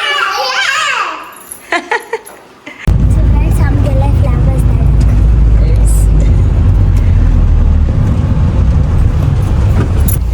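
A car pulls up during a family reunion in Goa, its loud, steady low rumble filling the scene after a few seconds of excited children's voices.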